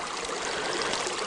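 Stream water rushing around a sluice box set in the current, a loud, close, steady broadband flow with no pauses.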